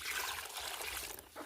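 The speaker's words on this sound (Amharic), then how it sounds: "ይሄ ደግሞ የዝናብ ውሃ ነው።" Rainwater trickles and dribbles in a soft, continuous flow, quiet and close, with no other sounds.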